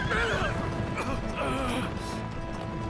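A horse in a video game neighs with a whinnying call as hooves clip-clop beneath it, loud and close, while someone talks over the sounds.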